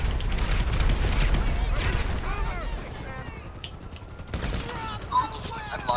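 A burst of gunfire in the game GTA, loud and dense at the start, then fading into scattered shots and mechanical clatter among game effects.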